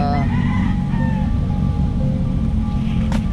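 Chickens and roosters in a yard, with steady clucking and intermittent crowing calls over a constant broad background rumble, no talk heard.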